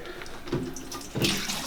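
Water gushes into a bucket in a bathroom in uneven splashing bursts, with the pour swelling loudly twice over a softer running trickle.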